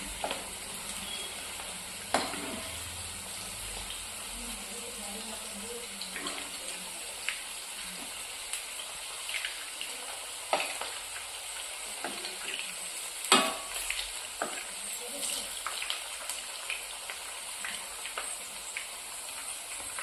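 Cabbage fries in a pan with a soft, steady sizzle, broken by scattered scrapes and clinks of stirring, one sharper knock near the middle.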